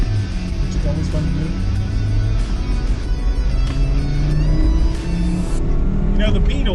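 A lifted VW Beetle driven hard across a bridge, its engine droning loud and close with a building, revving note that climbs steadily throughout.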